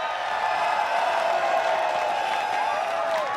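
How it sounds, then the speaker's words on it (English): Arena crowd at an esports fighting-game finals cheering and whooping steadily, a dense sustained roar of many voices with scattered clapping, loud and continuous throughout. "All right, crowd, I want to hear some noise."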